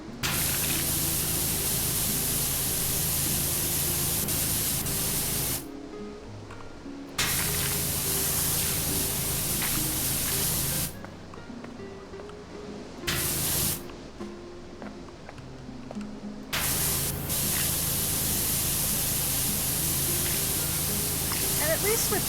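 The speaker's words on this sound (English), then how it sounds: "spray them much more powerfully from up close." A pressure washer sprays at close range in the PowerWash Simulator video game, a loud steady hiss of water that cuts out and resumes several times in long bursts.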